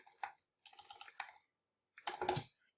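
Computer keyboard typing comes in short bursts of quick, close clicks separated by silent pauses, faint and unaccompanied by talk.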